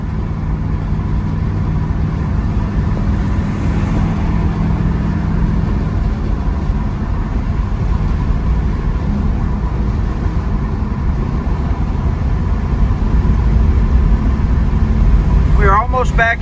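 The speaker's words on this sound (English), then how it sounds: "Car's got excellent power, shifts through all the gears the right way." A 1969 Chevrolet Camaro RS SS 396 V8 on the move, its deep engine rumble steady and close from start to finish.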